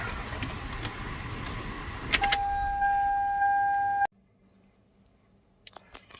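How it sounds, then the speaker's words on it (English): A 2001 Toyota Highlander starts off: keys jangle and a steady chime tone sounds inside the cabin, then it cuts off to a quiet idle with faint clicks and rustles near the end. "take it for a drive and make sure everything works right"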